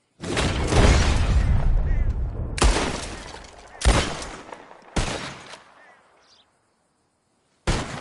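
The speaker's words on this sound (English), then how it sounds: "Whoever shoots more of these bottles wins." Loud close gunshots in Red Dead Redemption 2 during a bottle-shooting contest: a long roaring blast followed by three more separated sharp cracks, each ringing off, then a pause and a final shot.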